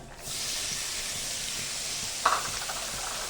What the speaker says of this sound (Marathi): कांदा मस्तपैकी तेलामध्ये परतून घ्यायचा